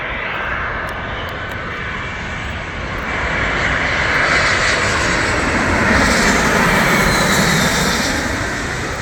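An American Airlines Airbus A321 jet lands on runway 24R at LAX, heard as a loud, steady engine roar that swells as the aircraft passes close by, filling the whole span with no talking.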